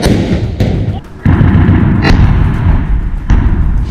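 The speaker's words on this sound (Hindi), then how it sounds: "दूर सड़क पर खड़े एक इजरायली सैनिक पर अल कासिम ब्रिगेड का लड़ाका ताबड़तोड़ फायरिंग कर देता है" Heavy gunfire in the Israel–Hamas war in Gaza as an Al-Qassam Brigades fighter opens rapid fire on a distant Israeli soldier standing in a road: several sharp, loud bursts rise over a dense, rumbling battlefield din.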